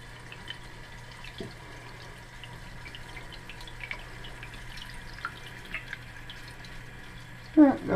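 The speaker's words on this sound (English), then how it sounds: "Got a little decent water going in there." Water trickles and drips steadily into a toilet tank through a newly installed fill valve, a soft, continuous flow with occasional small splashes, ending in a brief louder sound.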